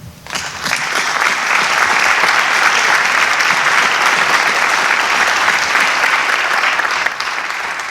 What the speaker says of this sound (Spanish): Creo que bien valdría la pena darle un fuerte aplauso a los señores de los medios de comunicación y de la prensa